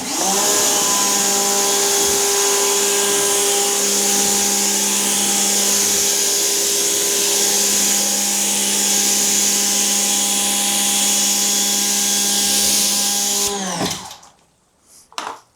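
Water sprays across a car hood during a rinse after clay-towel decontamination, a loud, steady mechanical drone with hissing spray that runs unbroken before stopping abruptly near the end.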